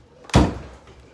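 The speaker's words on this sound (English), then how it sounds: "let me close this door real quick" An indoor door closes with a single sharp thud that rings briefly and then fades, loud and close, with quiet room tone around it.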